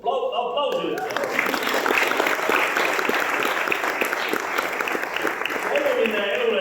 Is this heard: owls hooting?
no